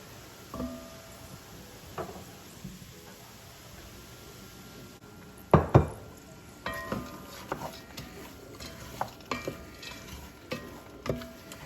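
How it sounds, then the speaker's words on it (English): Broccoli is stirred into softened onions and butter in a soup pot, with scattered spoon scrapes and clunks against the pot over a faint low simmer, close by and without speech. "then you want to stir in the broccoli"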